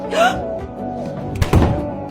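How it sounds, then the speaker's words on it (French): A door is pushed shut with a single dull, heavy thunk near the end, after a brief vocal sound and some quiet shuffling in a room. "Ferme la porte!"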